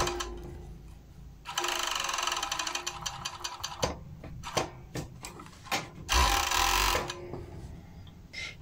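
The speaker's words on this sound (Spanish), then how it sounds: "Organizas bien bonito y pasas costura." Sewing machine stitching a seam on a long-sleeve blouse at the sleeve and cuff, a close rapid buzzing run of a couple of seconds followed by irregular clicks and a second short burst.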